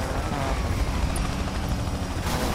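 A police helicopter chases during a pursuit in the video game Need for Speed Payback, its rotor thudding loudly amid dense, continuous game action noise.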